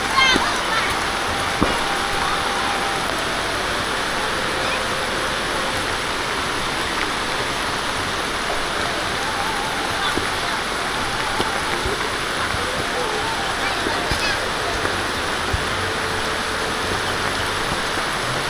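Rain pours steadily in the Thai countryside during the rainy season, a dense, even hiss that continues unbroken from start to finish.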